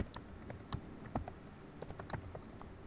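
Quiet, rapid typing on a computer keyboard, irregular key clicks in short bursts, close and alone.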